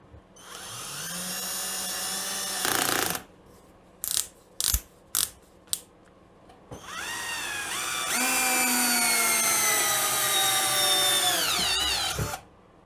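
Edon AD-12AUN cordless screwdriver driving a bolt at first speed, a close whining motor run, then several short trigger bursts, followed by a long sustained run with rising pitch that cuts off abruptly.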